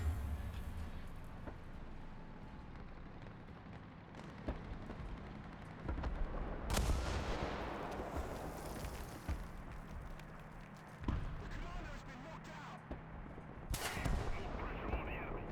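Gunfire from a gun crew in the video game Dyson Sphere Program, with repeated sharp bursts and blasts rising over a dense rumbling battle din, two especially loud cracks standing out, with no talk.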